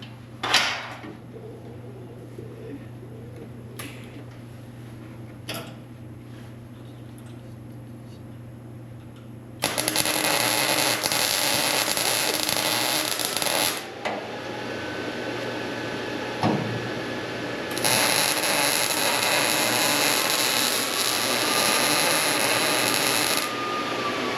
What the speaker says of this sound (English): do that one more plug weld and then we'll finish the outside